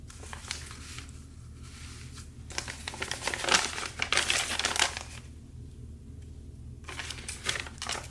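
Scissors cutting a paper flower out of a mailer packaging journal, a run of crisp snipping and crinkling paper rustle, close and steady with louder bursts midway, no talking.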